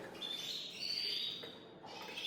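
A young Gloster canary gives soft, thin chirps and a drawn-out twittering trill, faint and somewhat distant against a low background hum.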